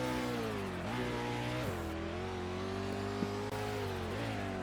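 A game car engine in Vehicle Legends revs in racing mode, a steady mid-pitched drone with harmonics that dip and climb again as gears shift several times, loud and alone.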